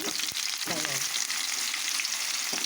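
Sliced onions sizzle in hot oil in a kadai, a steady bright crackle with a couple of soft stirring knocks near the start and no talking.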